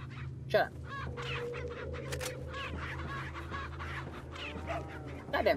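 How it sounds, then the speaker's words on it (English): Chickens cluck and squawk in the Resident Evil video game, with a busy layer of clucking and a louder squawk near the start and end over a low, steady background hum. "Goddamn chicken, shut up."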